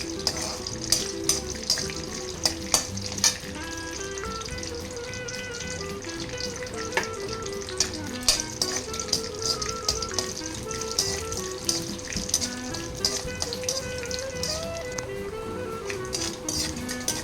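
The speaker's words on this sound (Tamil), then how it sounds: "கடுகு, உளுத்தம் பருப்பு நல்லா பொரிக்கிட்டோங்க" Steady crackling sizzle of mustard seeds and urad dal popping in hot oil, with scattered sharp pops and occasional light clinks of a utensil against a pan.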